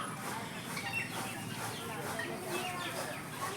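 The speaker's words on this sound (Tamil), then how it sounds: "அந்த கோழி அப்படியே தப்பிச்சு ஓடுது." Chickens cluck in short bursts against an outdoor background, with a person talking nearby through much of it.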